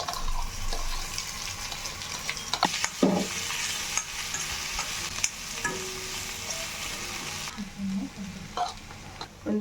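Potato filling for masala dosa sizzles in a pan while being stirred, giving a continuous frying hiss with scattered scraping and clinks of the spoon, close and fairly loud.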